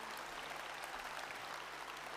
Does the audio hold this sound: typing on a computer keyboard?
no